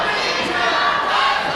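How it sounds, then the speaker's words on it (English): Crowd at a PWE World Title professional wrestling match between Façade and Gory, a dense, steady roar of cheering and shouting filling the whole moment with no pause, voices blended together with no single caller standing out. "The crowd sounds like they are split, about 50-50 for Gory, 50 for"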